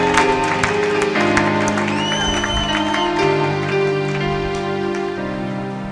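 A church congregation applauding during a French-language service, steady clapping over a sustained musical background with held tones and faint voices mixed in.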